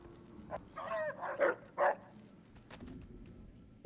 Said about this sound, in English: There we go, the robot dog.